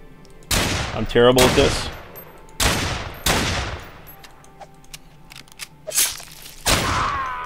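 Rifle fire in the online game Fallen Earth comes as several sharp, loud bursts spaced a second or two apart, each ringing out briefly, with someone speaking between shots.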